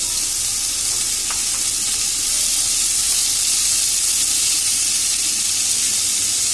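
Onions sautéing in leftover coconut oil from fried fish, salted, with a loud, steady close-up sizzle and a constant hiss, plus occasional faint stirring clinks and no talking.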